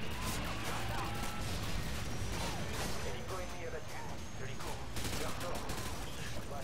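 Gunfire in Call of Duty: Modern Warfare 2, dense and continuous bursts of shots and impacts crackling throughout at a steady loud level, with a voice talking underneath.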